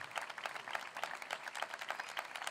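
Crowd applause at a Guanyem Badalona political rally, many hands clapping in a brisk, continuous burst, moderately loud and close.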